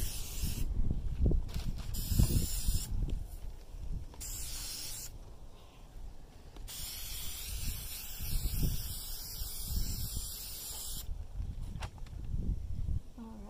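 Bursts of hissing spray from a Krylon aerosol lacquer can, sealing acrylic pour paintings, come in several short passes outdoors in wind, interrupted by pauses, with faint wind and handling noises between.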